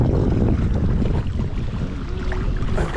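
Steady wind buffets across open water at a charity swim event, a loud continuous roar with no talking.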